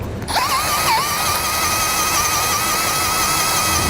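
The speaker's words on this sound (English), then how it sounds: "Use a drill bit just the right size and actually make a little dimple there" A drill whines steadily at high pitch after a brief burst at the start, its tone wavering slightly as it cuts a hole in metal on a 2014 Ford Edge, loud and close throughout.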